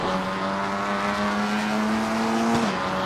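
Race car in a racing game powering out of the final hairpin at Zhuhai International Circuit, engine note climbing steadily and loud, with a brief dip and shift near the end.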